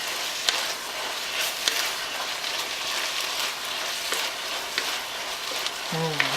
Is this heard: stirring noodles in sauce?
yes